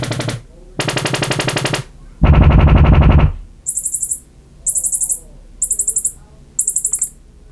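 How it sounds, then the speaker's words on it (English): A Sony HT-A7000 soundbar's calibration plays loud electronic test tones buzzing in long blocks, a deep low burst among them, followed by four short high-pitched chirps at even intervals. "you'll hear a bunch of bleeps and blorps, and it's basically setting"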